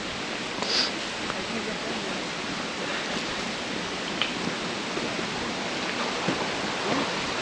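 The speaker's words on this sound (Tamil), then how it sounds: "இங்கே ஒரு ஃபால்ஸ் தெரியுது." A monsoon waterfall near Pune roars as a dense, constant rush of falling water, loud and unbroken throughout, with no other clear sounds standing out.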